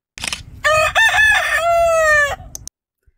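A rooster crows once, loud and close, a long strained call that rises and trails off, followed by silence.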